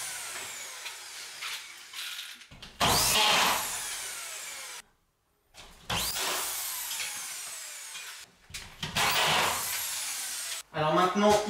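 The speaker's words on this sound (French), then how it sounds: "Et maintenant, on va la visser." Power screwdriver driving screws into standard plasterboard on a partition wall, several loud whirring bursts in separate runs with short pauses between them, close by.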